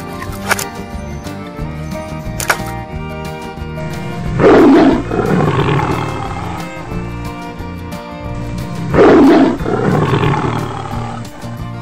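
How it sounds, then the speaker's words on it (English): A tiger lets out two loud, deep roars a few seconds apart, close and rumbling, with quieter growling between them. "Tiger, tiger,"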